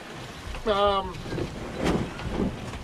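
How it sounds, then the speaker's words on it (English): A sailboat sails upwind into a leftover ocean swell, with steady wind rush and water wash throughout and a brief tonal whine or creak rising near the start. "we've got nice sailing out here, except the wind is on our nose. And we still got a leftover swell on our nose"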